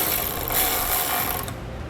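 A hand ratchet snugs down bolts on steel nerf bar brackets for Westin PRO TRAXX oval step bars, a steady close mechanical clicking that runs without pause for about two seconds.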